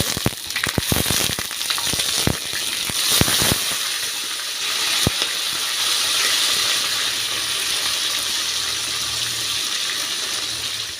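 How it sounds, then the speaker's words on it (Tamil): Steady hissing and sizzling of tomatoes frying in hot oil, with sharp pops and crackles early on, close and continuous. "தக்காளி எடுத்துருக்கிறேன் இதையும் வந்து எண்ணெயிலே வச்சுக்கலாம் ரசத்துக்கு"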